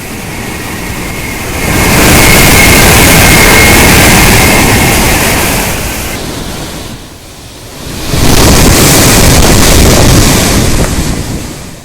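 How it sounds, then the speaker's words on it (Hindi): Cyclone winds and heavy rain in Andhra Pradesh make a loud, rushing roar that surges for several seconds, drops off briefly, then swells again. "तेज हवाएं और भारी बारिश से आम जिंदगी मुतासर हो गई है।"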